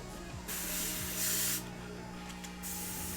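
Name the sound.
airbrush spraying paint, fed by a compressor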